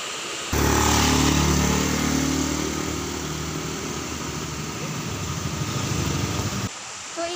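A motorcycle engine runs steadily nearby, a loud continuous drone that holds for about six seconds with a slight rise at the start before cutting off abruptly.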